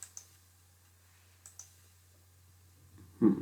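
A few sharp computer mouse clicks in a quiet room, evenly spaced in close pairs, followed by a short burst of louder rustling at the end.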